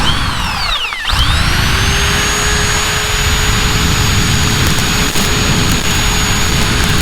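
A power tool cuts a bracket for the exhaust down pipe on an RS100 street tracker motorcycle build: a loud, steady high whine that dips and recovers around the first second, then holds a constant pitch with no talking.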